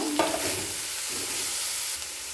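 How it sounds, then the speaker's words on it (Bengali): Chopped tomato hits hot oil and is stirred in a pan, giving a loud, continuous sizzle with a brief spatula scrape near the start, close up and steady throughout. "টমেটো কুচি দিয়ে দেব তেলের মধ্যে নাড়াচাড়া করে নেব"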